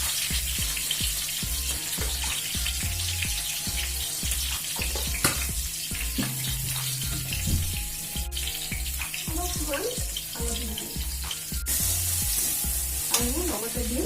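Onion, green chili and panch phoron frying in hot oil with a steady close sizzle, broken by stirring clinks and scraping throughout.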